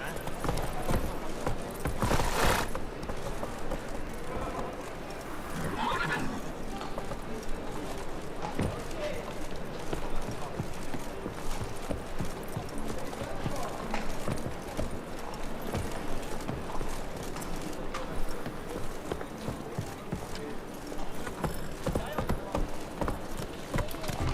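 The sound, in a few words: horse galloping hooves in The Witcher 3 video game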